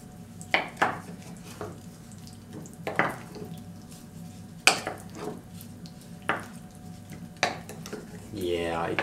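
Spoon and bowl clinks from stirring a thick yogurt mixture, sharp scraping taps at irregular intervals, close and moderately loud, with a short watery swish near the end.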